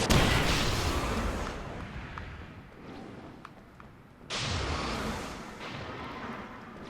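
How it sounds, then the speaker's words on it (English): Two loud, booming flare gun shots in Alan Wake's American Nightmare, each a sharp blast that decays into a long hissing roar, with the second arriving about four seconds after the first. "I'm gonna flare gun these bastards."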